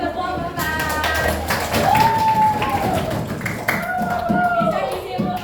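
Sixth-grade madrasah students applaud a classmates' group in their classroom: a brisk, continuous spatter of hands clapping throughout, with a voice speaking above the noise.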